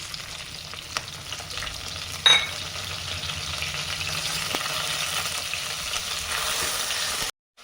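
Rasam spice paste sizzles and crackles in hot oil, a steady frying hiss with a brief clatter of stirring, close by with no talking.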